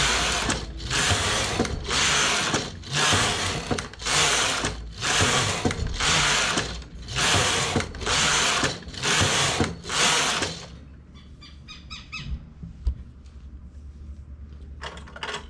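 Loud knitting machine working straight rows on a small bib overall piece: about ten regular rhythmic carriage passes with a mechanical whirring rattle, then quieter clicking and ratcheting of the mechanism, no voices.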